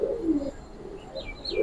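Pigeons, including high-flyer and running breeds kept for sale, coo in low throaty bursts, with a few faint higher chirps in between; close and fairly quiet, no talking.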